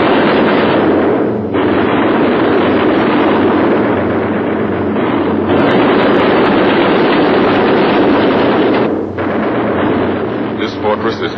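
Anti-aircraft flak bursts around a damaged B-17 Flying Fortress with an engine on fire, a loud dense roar of explosions and droning engines under a narrator's voice.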